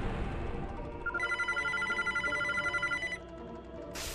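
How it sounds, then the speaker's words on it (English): A telephone rings with a rapid trilling electronic bell for about two seconds over a steady background hum, with no speech. "Fucking phone."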